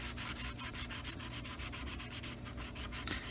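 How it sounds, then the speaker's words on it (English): Plastic model kit seams, part of a Romulan Warbird build, are wet-sanded with sandpaper in quick, rhythmic back-and-forth rubbing strokes, close-up and fairly quiet, with no voices. "we're just going to do it with some wet sanding"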